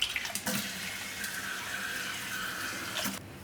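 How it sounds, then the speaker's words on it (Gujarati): Tap water runs steadily into a sink as whole masoor lentils are washed, a close, continuous splashing stream that cuts off near the end, with no speech. "મસૂરને આ રીતની આખી હોય એને આપણે ધોઈ નાખવાની."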